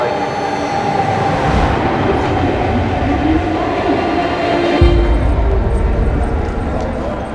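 A train rumbles loudly and steadily nearby, with a low mechanical hum and a deeper surge of engine noise partway through.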